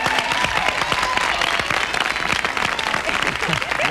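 A studio audience claps and cheers for an arriving guest on a TBN talk show, dense steady applause filling the whole moment with scattered whoops.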